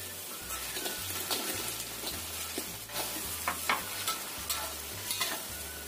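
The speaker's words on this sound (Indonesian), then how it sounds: "Setelah mendidih, kita masukkan tempenya." Tempeh goes into a pan of simmering oyster sauce and sweet soy sauce with garlic and gets stirred, a continuous bubbling sizzle broken by repeated scraping strokes of the spatula, close and clear, with no voices.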